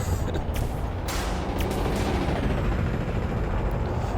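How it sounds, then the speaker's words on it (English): A frag cannon fires in a space combat video game, a shotgun-like weapon that spreads its shot, heard as a steady, loud roar of bursts and booms that fills the whole stretch with no voices over it. "That's the disadvantage of the frag cannon, of course, is because it spreads out like a shotgun."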